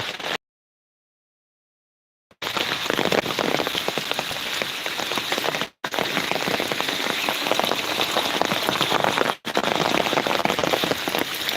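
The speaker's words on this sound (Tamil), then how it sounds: "செம மழை ப்ரோ" Heavy rain pours down hard and steady in a windstorm, a dense, loud hiss of drops striking surfaces close by, broken by a short silent gap near the start and two brief dips.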